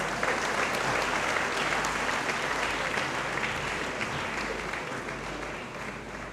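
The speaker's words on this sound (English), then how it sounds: "Let us give him another round of applause." Sustained applause from a large audience at a university graduate-school congregation ceremony in a great hall, steady dense clapping filling the room for several seconds at a consistent loud level.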